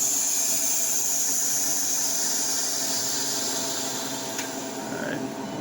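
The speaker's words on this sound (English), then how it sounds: "So I'll go over here, release the pressure." Harvest Right freeze dryer letting its vacuum go as the pressure is released, a steady, loud rushing hiss of air that runs through the whole stretch with no talk over it.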